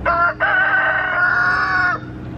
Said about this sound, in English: I can't get a full sentence in without this rooster crowing.